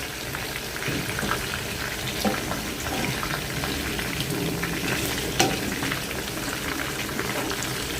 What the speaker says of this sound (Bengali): এই তো আমি কোপটাটা এখন ভেজে নিচ্ছি